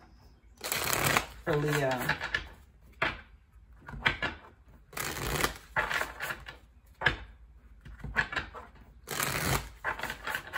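Tarot cards being shuffled close up in repeated riffling bursts, each a quick papery flutter, spaced evenly across the clip while a person speaks briefly at the start.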